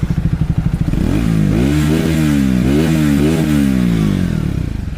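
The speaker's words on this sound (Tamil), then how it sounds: "பாருங்கள், இது வந்து 350 ஓடுது." Triumph Speed 350 motorcycle engine running close up, a loud steady thumping idle that rises and swells through a few revs before settling back.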